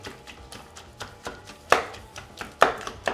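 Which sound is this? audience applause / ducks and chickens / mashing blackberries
mashing blackberries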